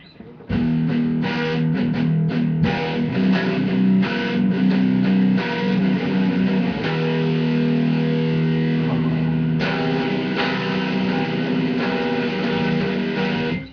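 An electric guitar is played through a distortion effect, loud and sustained, with chords ringing on and changing every few seconds, and no talking.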